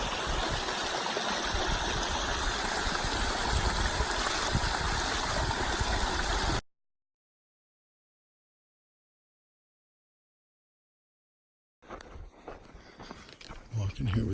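A snowmelt runoff stream flows beside a mountain trail as a steady, loud rush of water, then cuts to silence before rustling footstep-like sounds return.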